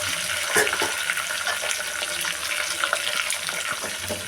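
Garlic, curry leaves and green chillies sputter in hot oil in a pan, a close crackling sizzle with occasional sharper pops and light stirring scrapes, no speech.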